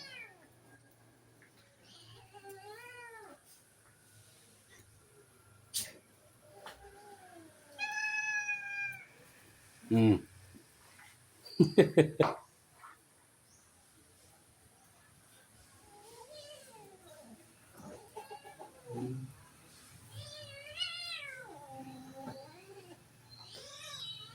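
A cat meows repeatedly, some calls drawn out and wailing, with quiet pauses between and a few soft voices now and then.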